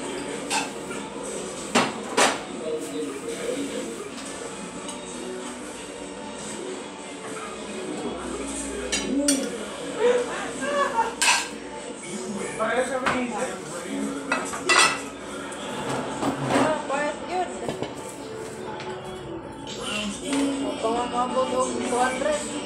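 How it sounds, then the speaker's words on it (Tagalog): A plate is taken out and dishes and cutlery clatter for a long stretch, with repeated close clinks and knocks. A voice talks now and then during the clatter. "Wait, I will get a plate."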